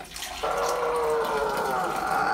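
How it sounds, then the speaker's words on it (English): Masala chai is poured from a height to froth it, a steady trickling stream of liquid that strikes the cup abruptly and keeps running close and continuous. "they pour the tea from on height like that"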